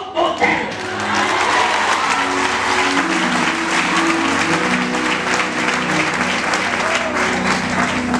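Church congregation applauding and cheering loudly in sustained waves, with voices shouting and a steady rhythmic clapping mixed in.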